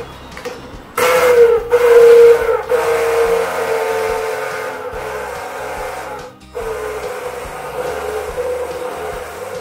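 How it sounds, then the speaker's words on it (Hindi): A blender whirs as it blends oil into eggless mayonnaise: a loud, steady motor whine starts after about a second, dips briefly twice, then runs on alone. "थोड़ा तेल डालते जाएंगे और ब्लेंड करते जाएंगे"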